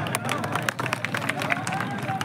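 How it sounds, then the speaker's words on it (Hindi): A crowd at an open-air village wrestling dangal claps to welcome a wrestler, a steady busy patter of many hands over a murmuring crowd, fairly close and continuous. "और हमारे भोले भाई का तालियों से स्वागत है।"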